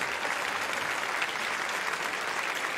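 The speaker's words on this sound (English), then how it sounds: "a performance like that from our middle schoolers deserves a 2 or 3 rounds of applause" After a middle school orchestra performs at a district concert in a high school, the audience breaks into full, even applause, a thick continuous roar of many hands filling the hall without pause.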